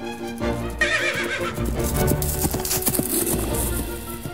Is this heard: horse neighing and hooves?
yes